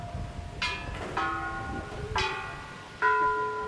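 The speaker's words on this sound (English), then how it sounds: "people can come and clank on the bells." Bells at a Thai Buddhist temple are struck by hand, giving four separate clanking strikes with ringing tones that decay over a noisy outdoor background.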